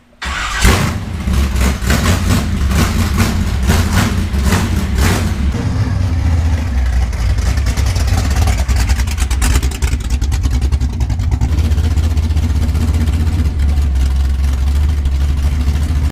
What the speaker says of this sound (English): He just finished up putting a Holley Sniper Stealth on his 71 Nova